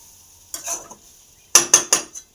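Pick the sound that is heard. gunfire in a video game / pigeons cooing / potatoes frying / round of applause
potatoes frying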